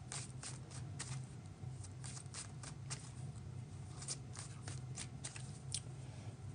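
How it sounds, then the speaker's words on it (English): Tarot cards shuffled by hand in a steady run of soft riffling, slapping card sounds, close up, with a constant low hum underneath and no talk. "I'm shuffling the wrong deck."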